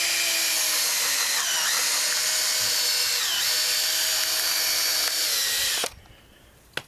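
A power drill whines steadily as it drives a cone splitter into the side of a log, the pitch dipping briefly under load, then cutting off abruptly near the end.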